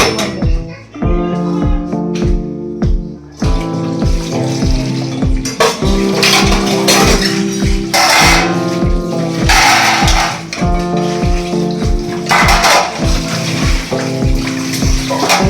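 Dishes clatter and clink steadily over running water, with repeated sharp knocks of pots and plates being scrubbed and set down close by.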